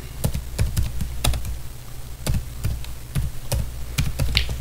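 Computer keyboard typing, sharp irregular clicks and taps in short bursts with brief pauses, close and clear without speech.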